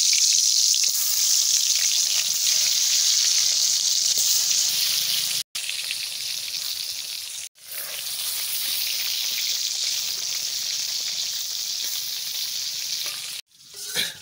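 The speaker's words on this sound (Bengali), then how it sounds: "তেল গরম হয়ে গেছে, এবারটা আমি বেগুন বসাই দিচ্ছি।" Turmeric- and salt-coated eggplant fries in hot oil with a loud, continuous close-up sizzle that cuts out briefly twice before resuming, with no speech.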